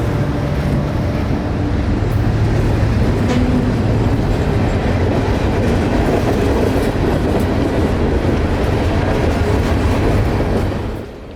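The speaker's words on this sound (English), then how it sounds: "This is a train of empty jumbo-covered hoppers returning to the Bone Valley" An empty CSX freight train of jumbo covered hoppers rolls past in Central Florida, a loud, continuous rumble with steady clickety-clack of wheels on rail joints, fading slightly at the end.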